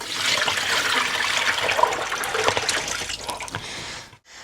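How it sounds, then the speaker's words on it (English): Dirty water pours and gurgles into a grey water tank, a steady rushing splash that runs continuously before cutting off near the end, with no talking. "Let's put this down into the grey water tank."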